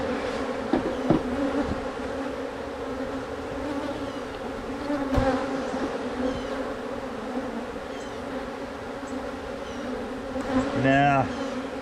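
Bees buzz steadily around an opened hive during an inspection, a dense, continuous drone close by with occasional louder passes near the end.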